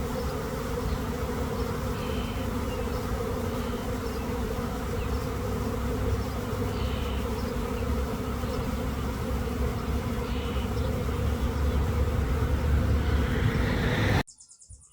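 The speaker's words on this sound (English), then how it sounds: "And we're having another swarm." A swarm of honeybees buzzing outdoors, a dense continuous hum that holds steady and close for most of the time before cutting off abruptly near the end; no voices.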